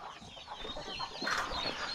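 Chickens cluck on a farm on a wet morning, several birds making short overlapping calls against steady outdoor background noise, growing a little louder toward the end.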